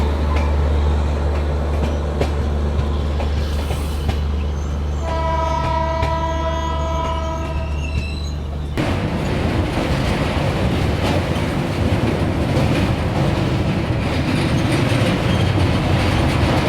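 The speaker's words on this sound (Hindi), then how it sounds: "अब डिपार्ट तो कर लिया हमारी ट्रेन ने" Howrah–New Delhi Poorva Express pulling away after departure, with a loud low rumble, a long multi-tone horn blast in the middle, then rhythmic wheel clatter and rolling noise as it passes close by.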